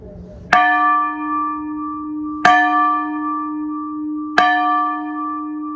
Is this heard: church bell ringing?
yes